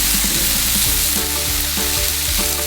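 Salmon burger patties, semi-frozen, sizzle on a Blackstone griddle with a steady, loud frying hiss and crackle throughout, no talking.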